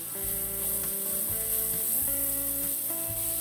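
Onion, curry leaves and asafoetida sizzle steadily while being stirred in a pan, with a continuous close frying hiss and soft periodic scraping from the stirring, no talking.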